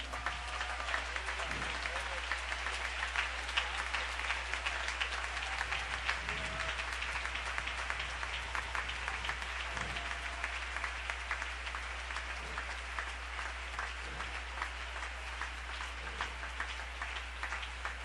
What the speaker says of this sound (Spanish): Si ese aplauso es para Dios,